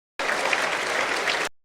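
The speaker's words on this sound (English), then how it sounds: "the crowd erupts for Larry Rudd" A crowd erupting in dense, loud applause as an audio drama sound effect, a short, steady burst of clapping and cheering that starts abruptly and fades quickly.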